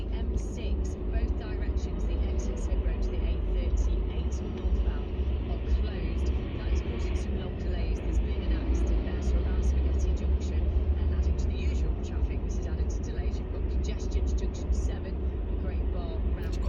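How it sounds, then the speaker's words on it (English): Road traffic heard from inside a moving car near a junction with Eastern Way in the morning, a steady low rumble and whoosh of vehicles passing throughout, with a driver talking over it. "A lot of traffic to the left coming off Eastern Way."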